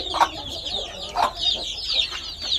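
Hens clucking inside a coop where mother hens keep their chicks, with repeated close clucks and short calls in an uneven rhythm and no talk.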